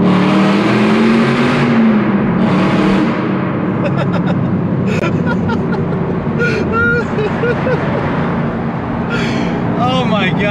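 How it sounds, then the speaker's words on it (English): A Camaro revs its engine loudly in a tunnel close behind, a sustained roaring engine note with rising and falling pitch over an ongoing loud exhaust drone, while people talk excitedly over it. "The Camaro's trying to like rev his engine right now."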